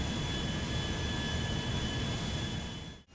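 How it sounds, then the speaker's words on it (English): Airbus A330-300 jet engines in GTA V spooling down, a loud steady broadband roar with a faint whine that abruptly cuts off near the end, with no talk. "I'm shutting the engines off here so I can show you the livery."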